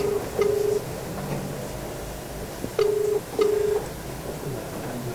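Telephone call tones sound as a phone line connects: short steady beeps repeat in pairs with pauses between, clear over a quiet background hiss.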